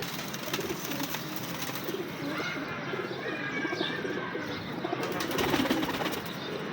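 Pigeons coo softly amid occasional wing flaps and faint chirps, steady low-level bird sounds without speech.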